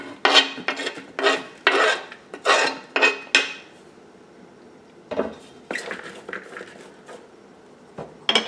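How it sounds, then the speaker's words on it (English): Chopped onion and broccoli tumble into a big bowl in a series of bright rustling, scraping bursts, several in quick succession, then a pause and more clattering, with no talk. "Alright, onion and broccoli going in."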